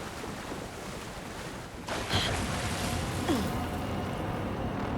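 Water and surf wash continuously through a dark scene in the video game Alan Wake II, a broad rushing noise that swells louder about two seconds in, with a few faint tonal glides on top.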